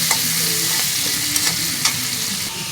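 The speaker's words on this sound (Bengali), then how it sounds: "এই যে মাছের মাথা দিয়ে দিলাম ভাজতে।" Fish head frying in hot oil with onions, a steady loud sizzle running throughout with a few sharp spatula scrapes and clicks over it.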